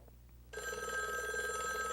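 After half a second of quiet, a telephone begins ringing with a steady, bright electronic tone that carries on unbroken to the end.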